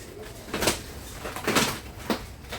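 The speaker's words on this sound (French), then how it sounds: "Je vais fermer la porte et je vais être top." A wooden door on a rundown farm shelter swings and bangs in three distinct knocks spaced about a second apart, close and moderately loud against quiet surroundings.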